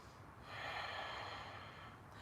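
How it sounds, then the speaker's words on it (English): Deep, steady breath during a yoga flow, a broad airy rush swelling after a brief quiet start and holding for about two seconds, close and fairly soft. "Deep breaths."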